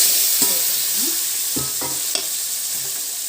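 Raw mango pieces stirred into hot oil with fried asafoetida in a pan: a soft continuous sizzle with several scraping stirs of a spoon, close and clear, with no talking.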